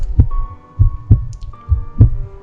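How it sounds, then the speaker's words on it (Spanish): A heartbeat sound effect in a Spanish-language audiobook of Poe's tale, five deep, loud, evenly spaced thumps over a faint sustained hum, with no voice. "Era el latido del corazón del viejo."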